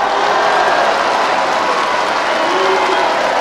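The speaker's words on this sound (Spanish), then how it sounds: "Quiero un aplauso para el gobernador de Durán." A large outdoor political rally crowd gives sustained, dense applause for a state governor, loud and steady throughout with a roaring crowd texture.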